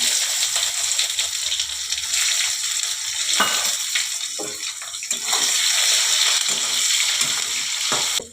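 Chopped raw onion frying in oil with whole cumin and a bay leaf, a loud, steady hiss and crackle, close up, with occasional stirring scrapes.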